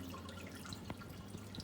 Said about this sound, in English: you see this water that's coming out.